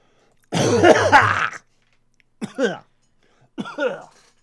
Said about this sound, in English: Still got my cough from 3 weeks ago.